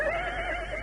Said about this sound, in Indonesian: Aku seperti mendengar suara ringkih kuda.